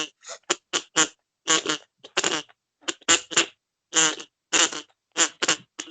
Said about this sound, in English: But there's the fart whistle.